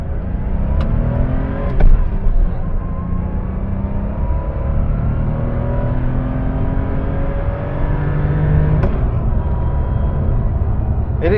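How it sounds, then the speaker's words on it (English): A 1982 Porsche 911SC accelerates hard uphill, its engine note climbing steadily through the gears with brief dips at the shifts, loud and close from inside the car. "So we're going to do an acceleration test, but it is going to be uphill"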